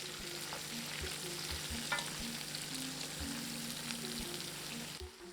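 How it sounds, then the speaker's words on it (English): Sliced onions frying in oil with whole spices, a steady close sizzle and crackle running throughout with soft stirring knocks and scrapes, fading a little at the end. "Cook the onions until they're a lovely kind of brown and nice and soft"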